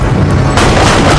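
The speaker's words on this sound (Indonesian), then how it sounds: "menghabisi Santos dengan satu tembakan" A single loud gunshot in a hitman action film cracks out halfway through, a sharp blast over a rumbling, tense background score.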